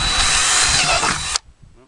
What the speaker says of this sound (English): so the drill bit doesn't walk off.